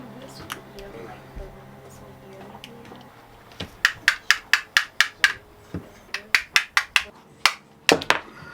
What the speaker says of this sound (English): I'm going to pull the rotor out of here